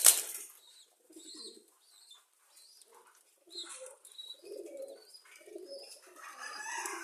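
Pigeons in a pigeon-rearing loft give soft, low repeated coos in short bursts, close and otherwise quiet, opening with a brief rustle.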